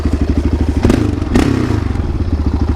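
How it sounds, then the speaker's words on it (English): A Honda motorcycle engine runs steadily in the snow, its loud, even putter pulsing close by, with a couple of brief knocks and clatters near the middle. "The Honda should be plenty warmed up by now."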